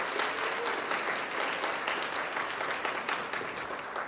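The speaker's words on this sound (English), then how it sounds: "let's have one more round of applause for our contestants" An audience at an innovation challenge event applauds the contestants, a dense, steady burst of many hands clapping that carries on without a break and sounds somewhat distant.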